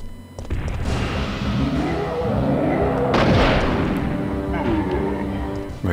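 A rocket launcher fires in Resident Evil 3: Nemesis, its heavy booming blasts rumbling loudly and continuously through the game's chaotic combat noise.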